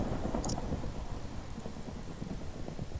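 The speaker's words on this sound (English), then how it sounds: "thunder" Thunder in the game Minecraft, a low rolling rumble that swells and fades, moderately faint, with a continuous grainy wash like rain beneath it and no speech.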